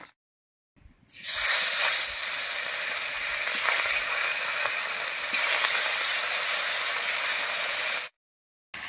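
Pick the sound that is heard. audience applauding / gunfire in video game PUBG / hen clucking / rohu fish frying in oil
rohu fish frying in oil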